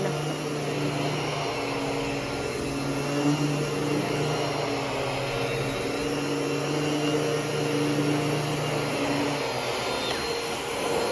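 A Miele Jazz Dynamic U1 Powerline upright vacuum cleaner runs with a steady loud motor roar, and a thin whine from its worn brush roll motor sits on top and holds throughout.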